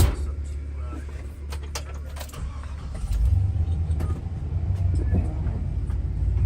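A car drives through rainy Toronto city streets toward Nathan Phillips Square, with a steady low engine and road rumble from inside the vehicle that grows louder midway, plus scattered clicks and rattles.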